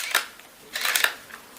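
A camera shutter fires with a sharp single click, followed a moment later by a longer, crisper cluster of mechanical clicks, then a faint final tick. All are close and fairly quiet, with no talking.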